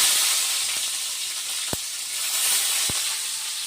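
Urad dal, chana dal, cumin, mustard seeds and onions sizzling in hot oil in a pan, a steady close hiss with a couple of sharp pops and crackles, no voices.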